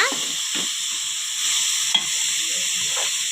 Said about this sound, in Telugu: బాగా వేయించుకుందాం ఈ పేస్ట్